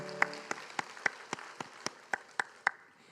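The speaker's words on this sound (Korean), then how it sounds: "우리 주님께 영광의 박수 올리겠습니다." A church congregation at a Korean Sunday worship service claps in unison, about a dozen sharp, evenly spaced beats in a steady rhythm, fairly quiet and set back in the room.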